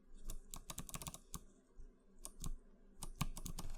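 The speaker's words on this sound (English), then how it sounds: "now we're getting to move along and finally put the keycaps on the board." Keycaps are pressed onto a hot-swap mechanical keyboard in a quick run of close, crisp clicks and clacks, irregular and clustered, with short pauses between bursts.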